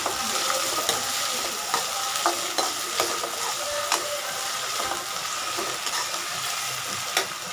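A large tomato frying and being stirred in a pan with softened onions, steady close sizzle broken by frequent spoon scrapes across the metal.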